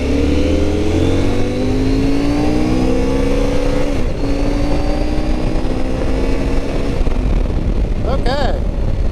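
A loud adventure motorcycle engine runs at high rpm, a steady buzzing drone with slowly shifting pitch close to the rider, continuing without a break.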